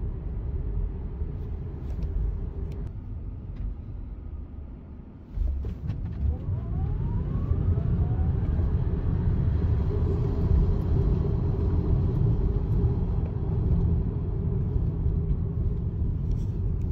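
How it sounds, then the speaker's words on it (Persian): A dual-motor Tesla Model 3 from 2020 drives along, giving a steady low electric motor and road rumble from inside the cabin, with a brief rising whine as it pulls away after a pause and then a constant hum. "صدای موتور به خاطر دو موتوره بودن این ماشین نسبت تو ماشین من که یه موتور هست یک ذره یه چند دسیبلی بالاتر هست"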